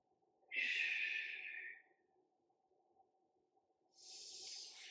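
A long, deep breathy exhale during a core and stability workout, followed after a pause by another airy breath, close and soft over a faint low hum.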